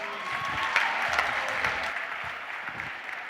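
A morning conference audience applauds continuously, a dense steady clapping that fills the room, with faint crowd murmur and no clear speech.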